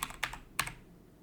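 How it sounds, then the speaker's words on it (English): Brief computer keyboard typing while entering a project name, two short bursts of clustered keystrokes close by, then fading to quiet. "I'm only typing in the location, the name there."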